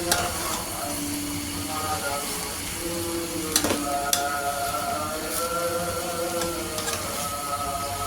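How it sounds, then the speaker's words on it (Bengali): Flat beans (shim) fry in a pan while being stirred, giving a continuous loud sizzle with scattered scraping clicks over a faint tonal hum in the background. "কিছুক্ষণ পরপর নেড়ে দিচ্ছি সিমটা"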